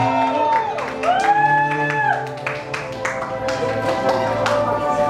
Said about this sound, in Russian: Громче, друзья, овации Дмитрию и Ирине.